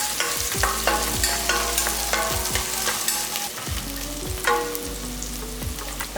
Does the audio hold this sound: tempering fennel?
yes